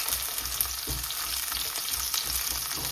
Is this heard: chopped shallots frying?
yes